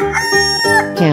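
A chicken crows once in a 3D animal slide game, a loud, drawn-out cry standing clear over steady game music.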